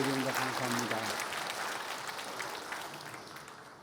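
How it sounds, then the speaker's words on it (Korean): Applause from a church congregation follows a sung or held tone at the start, the clapping continuing steadily and fading slightly toward the end. "박수로 우리 하나님께 영광을 드립니다."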